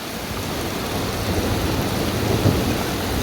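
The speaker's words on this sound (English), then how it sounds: "Yeah, still thunder." Heavy rain pours in a thunderstorm of near-constant thunder, a thick, loud roar of rainfall over deep continuous rumbling that swells slightly toward the end.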